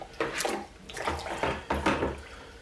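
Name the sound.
camera case lowered into water, splashing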